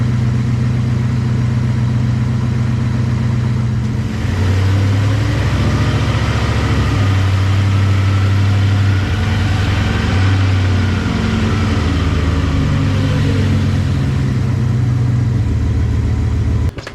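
Dodge Ram 2500/3500 pickup from 1994-2002 on a test drive after a brake rotor replacement, a steady close engine drone with low rumbling tones that shift in pitch as it moves.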